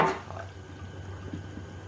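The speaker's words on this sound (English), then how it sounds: "You're just gonna pour it in" Hot water poured into a bowl of noodles with egg, a brief clatter of the dish at the start followed by a soft, quiet trickle of liquid close by.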